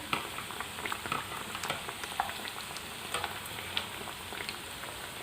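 Beef cutlets sizzle steadily in a hot pan, a continuous crackling hiss dotted with small pops and spatters, close and fairly loud with no voices.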